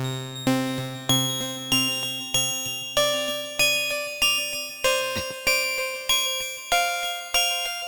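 A modular synth macro oscillator fed through a quantizer plays random quantized notes with effects, a steady stream of bright, bell-like tones struck roughly every half second, each ringing with a decaying tail.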